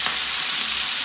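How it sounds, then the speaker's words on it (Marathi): Surmai (kingfish) slices frying on a tava, a dense, continuous loud sizzle with a hissing crackle throughout; no voices. "ही गेली आपली तव्यामध्ये सुरमई."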